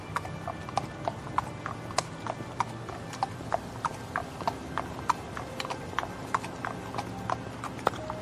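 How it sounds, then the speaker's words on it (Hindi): Horse hooves clip-clop in a quick, steady galloping rhythm as a messenger rides fast toward an ashram, each beat crisp and evenly spaced over a low background rumble. "संदेशवाहक घोड़े पर सवार होकर आश्रम की ओर तेज गति से रवाना होता है।"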